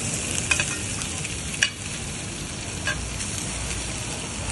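Kokoreç, rolled lamb intestines, sizzles in a dry pan with no oil, a steady close hiss throughout with a few brief stirring clicks and scrapes.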